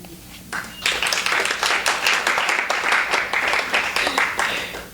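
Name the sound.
audience applauding after a poem reading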